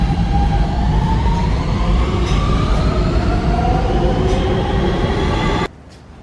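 A subway train in a Manhattan station at night runs with a loud, continuous roar and rising wheel whine, with faint squeals along the way, then the sound cuts off abruptly near the end.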